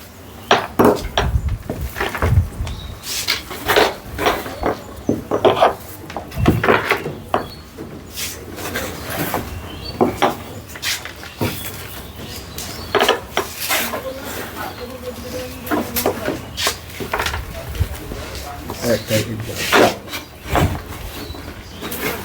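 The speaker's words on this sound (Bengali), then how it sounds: "এবার এখানে মাটি দিয়ে দেওয়া হচ্ছে।" Soil is scooped and poured into a pot while repotting a baobab bonsai, producing repeated gritty scraping and rustling with occasional light clinks and knocks at close range.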